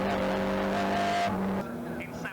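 1970s Roadsports race cars lapping Mallory Park in a historic HSCC race, engines howling loudly as they pass close and fade away, with a commentator talking over them.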